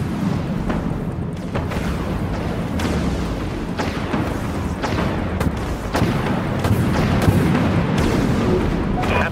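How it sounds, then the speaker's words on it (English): Missile salvos launching aboard a warship in the space combat game Dreadnought, a rapid series of booming launches and bursts over a constant rumbling battle din, loud and close. "Launching missiles."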